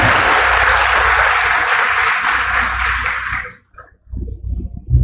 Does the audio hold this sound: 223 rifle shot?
no